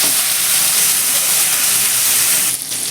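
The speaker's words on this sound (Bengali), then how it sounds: "চিংড়ি মাছটাকে কিন্তু একটু মিডিয়ামভাবে ভেজে নেব" Loud, steady sizzling of shrimp frying in hot oil, a dense continuous hiss that dips briefly near the end.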